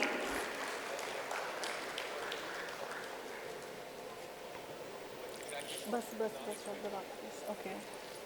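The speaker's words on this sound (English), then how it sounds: "please give a huge round of applause" A large audience at a fireside chat event applauds, a broad sustained patter of clapping heard at a moderate distance, with a voice murmuring faintly beneath it toward the end.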